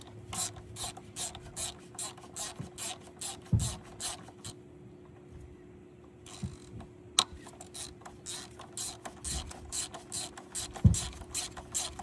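Ratchet clicking in quick repeated bursts while loosening the 10 mm power steering line bolts on top of the pump of a 1999-2004 Honda Odyssey, close and fairly quiet, with brief pauses between strokes.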